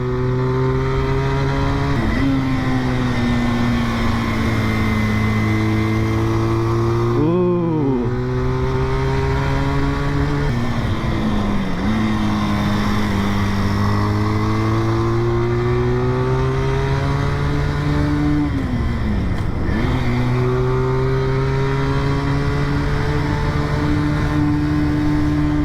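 A CMC Daytona 250 cafe racer motorcycle engine ridden on a twisty mountain road, loud and close, revving up through the gears in repeated rising pulls with brief dips at each shift, alone without talk.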